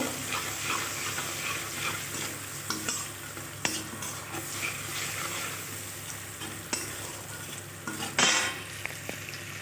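Grated ginger, chopped garlic, salt and turmeric being stirred in a hot frying pan: a continuous soft sizzle with intermittent scrapes and clicks of the spoon, a sharper hiss near the end, no talking.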